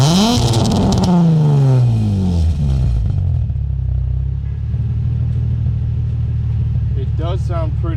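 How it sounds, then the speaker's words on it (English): A Nissan 350Z with a Flashark Racing Y-pipe and single exhaust revs sharply up and falls back, then settles into a deep, steady rumbling idle close by, with a person talking near the end. "It does sound pretty crazy when I go and hit it a little rev"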